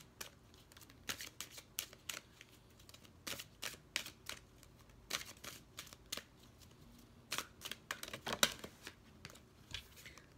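A deck of cards is shuffled quietly and repeatedly, with quick riffling bursts and soft snaps coming in uneven clusters, close by.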